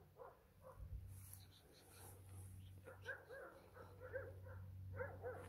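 Dogs bark repeatedly, faint and distant, over a low steady hum, with a few voices mixed in.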